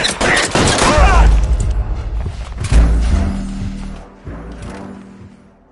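Rapid gunfire rattles through a shootout in the video game L.A. Noire, a loud fusillade of bursts and thumping shots fading out toward the end, with no voices over it.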